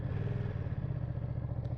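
A Ducati Panigale V2 motorcycle idles right after starting, its engine giving a close, steady low rumble with a slight mechanical clatter throughout.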